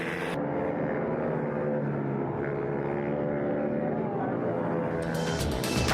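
Mini bikes at a national road race round at Whilton Mill sweep toward the finish line, a loud, steady engine drone close by, with a sharp rise at the very end as they pass.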